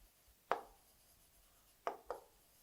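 Chalk or marker strokes on a classroom board during a subtraction lesson, three short scratchy taps with a single stroke near the start and a quick pair near the end, fairly faint.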